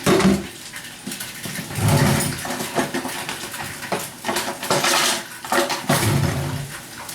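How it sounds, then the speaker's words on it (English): Polenta cakes sear in a hot pan, browning on both sides, a steady sizzle with clinks and scrapes of cookware rising and falling throughout, close and fairly loud. "All you wanna do is just sear them down on both sides so they get a little brown."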